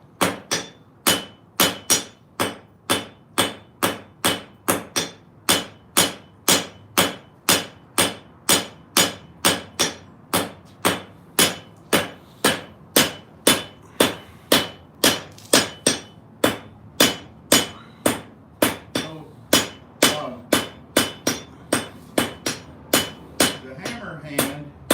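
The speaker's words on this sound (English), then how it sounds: "The hammer hand is working" A blacksmith's hand hammer forges a steel striker, ringing close and loud in an even, rapid series of metallic blows that continues without pause for the whole stretch.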